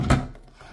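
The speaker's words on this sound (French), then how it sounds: "Des tiroirs qui se coulissent." A small drawer on a toy pet rescue vet playset slides with a quick, close scraping rub that trails off into a softer glide, with no talk.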